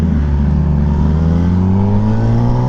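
A Kawasaki ZX-10R sportbike with an SC Project exhaust revs loud and close, its deep engine tone climbing steadily in pitch as the throttle opens, with no talk over it.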